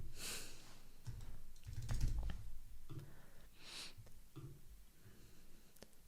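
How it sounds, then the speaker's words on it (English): Computer keyboard keys are typed in a steady run of soft, close clicks with a few louder taps, alone in a quiet room with light breathing and no talk. "If we click / on our keyboard"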